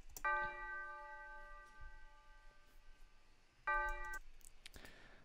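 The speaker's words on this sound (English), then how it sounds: "I also added the church bell again." Two separate rings of a sampled church bell in a beat sound clearly, each a bright tonal strike that rings out and decays slowly, the second arriving after a few seconds.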